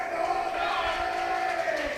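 Crowd cheering and shouting for a weightlifter attempting a squat at a British junior weightlifting championship, a sustained loud roar of voices filling the hall.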